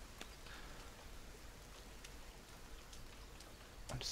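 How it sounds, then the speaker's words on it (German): Quiet, steady patter of rain in the video game The Forest, with occasional soft drops, continuous and faint throughout. "Und es regnet."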